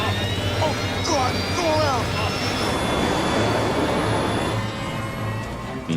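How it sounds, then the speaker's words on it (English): Airliner jet engines spool up to full throttle during an aborted landing and go-around, a rising broadband roar under tense overlapping cockpit voices and a whining tone. "I feel the thrust of the engine re-engaging full throttle."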